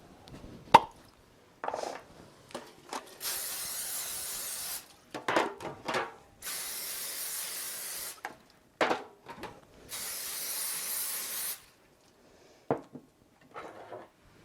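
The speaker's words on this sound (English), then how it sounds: "So I'm going to spray the bottoms and sides of my 3 loaf pans." Short hissing bursts of cooking spray coat the bottoms and sides of three loaf pans for chocolate bread, three long sprays among clinks and taps of the pans, close and clear with no talk.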